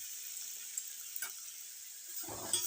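Chow mein noodles with sauce stir-frying in a pan, a quiet steady sizzle with a few soft scrapes and clinks of a utensil stirring toward the end.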